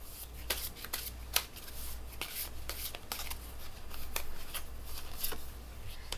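Tarot cards shuffled by hand, a continuous soft riffling with crisp snapping flicks repeating throughout, close and fairly quiet over a low hum.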